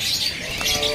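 Birds at a bird market kiosk where perkutut (zebra doves) are kept, with soft chirps and tweets mixing into a busy background for a brief moment.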